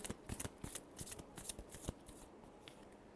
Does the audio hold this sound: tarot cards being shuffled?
yes